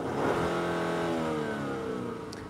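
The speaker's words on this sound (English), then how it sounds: "Just revving it out." Genesis GV70 3.5T engine revving: a single sustained rev with rising and falling harmonic engine tone, moderately loud and steady throughout, no talk.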